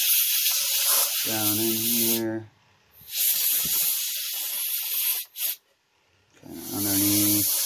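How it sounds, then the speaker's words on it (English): Canned air sprays in long hissing blasts with a short puff between them, loud and close, dusting out a Coleco Pac-Man tabletop game with no power, while someone talks softly under the first and last bursts. "Okay, I got the canned air now."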